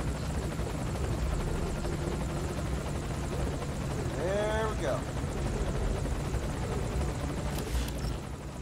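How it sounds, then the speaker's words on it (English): A video game helicopter's steady rotor drone fills the background, with some muffled activity on top, at a moderate distance, from Metal Gear Solid V: Ground Zeroes. "Put the target on the chopper."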